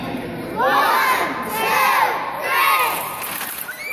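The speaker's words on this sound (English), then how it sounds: "we're gonna count to three really loud" A group of children shout three loud counts in unison, each a drawn-out cry, with a brief pause between them.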